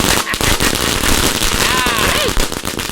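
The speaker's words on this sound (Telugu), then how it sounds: "క్రాకర్స్ కాల్స్తున్నాను." Diwali-style firecrackers burst in a dense rapid string of loud close cracks and pops, with whistling rockets rising through the barrage and voices partly audible underneath.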